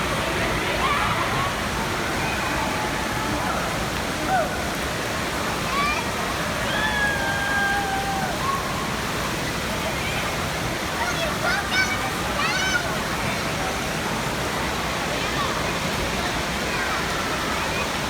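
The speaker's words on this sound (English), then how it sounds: "Water" Water flows and splashes steadily at an indoor water park's little kids section with slides and toys, a continuous wash of sound with children's voices and chatter rising over it throughout.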